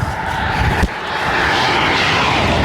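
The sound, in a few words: 375 CFM diesel air compressor engine running, 4045 turbo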